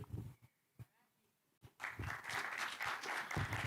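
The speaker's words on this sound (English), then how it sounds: "A better round of applause" Audience applause at a pitch session of a summit in Nairobi: short bursts of clapping at first, then a sustained, fairly dense round of clapping from a medium-sized crowd filling the second half.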